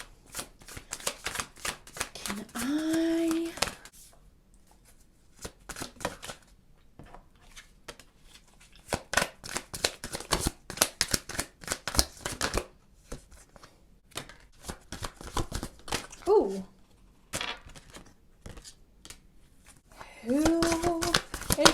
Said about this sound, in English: now shuffle all of the oracle cards at once